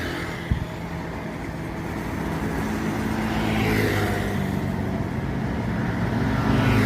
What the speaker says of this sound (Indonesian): Satu unit lagi bus dari Sumbar.